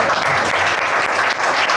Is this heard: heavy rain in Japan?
no